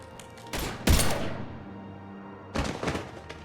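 Bursts of gunfire crack out in Mass Effect 3, a loud volley followed by a quieter pause and then a second cluster of shots, with little talk.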